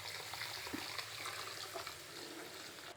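Ration rice being washed by hand in water, a steady close wet swishing and trickling with faint splashes, no voices.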